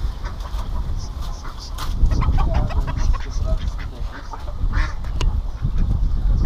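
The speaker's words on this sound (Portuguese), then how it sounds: "os patos é uma brigaiada" Ducks squabble in a noisy flock on a farm, quacking in rapid overlapping bursts with a few louder squawks, close and constant against rough outdoor background noise.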